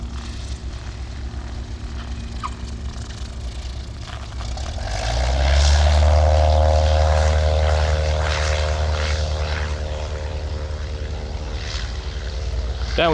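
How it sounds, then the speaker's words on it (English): A propeller airplane comes in to land at San Mateo airport, its engine drone swelling from a faint hum to a loud, close pass midway, then trailing off into a steady rumble outdoors. "Airplanes coming in for landings."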